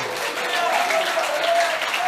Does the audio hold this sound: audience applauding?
yes